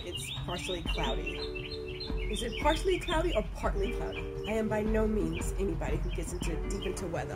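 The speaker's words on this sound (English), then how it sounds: "I'm hearing the birds chirping." Birds chirp and tweet outdoors under partly cloudy skies, with repeated bright calls and a few coos heard steadily behind a person talking close by.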